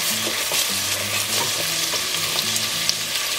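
French beans sizzle and fry in a pan for a Goan meat stew, with a steady crackling hiss and light stirring up close.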